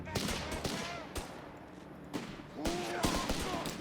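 Carcano bolt-action rifles firing in the WWII strategy game Company of Heroes 3: scattered, fairly distant rifle cracks and battle noise pop irregularly through the clip, with faint in-game voices mixed in.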